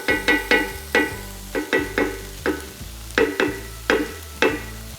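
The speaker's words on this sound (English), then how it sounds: "we will saute our onion and the jalapeno" Onion, jalapeno and tomato sauté in a pan, a soft sizzle under repeated sharp scrapes and taps of a spoon stirring in an uneven rhythm, close and alone.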